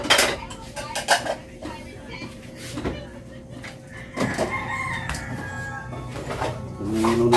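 Dishes, pots and pans clatter and clink during washing up, with repeated metallic knocks and scrapes, a rooster crowing faintly in the background and brief voices near the end.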